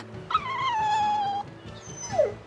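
A dog in the video game Tales of Berseria whimpers with a long drawn-out whine, then gives a short falling yip, close and fairly quiet against a low background.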